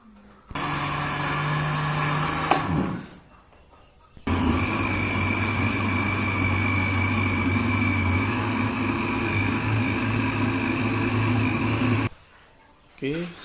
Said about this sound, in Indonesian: selanjutnya kita blender